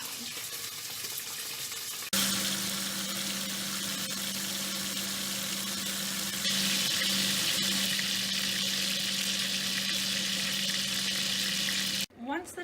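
Chicken for Filipino adobo browns in hot oil in a pan, a steady loud sizzle and crackle that starts abruptly after a quiet moment, swells slightly partway through, then cuts off near the end with no talking.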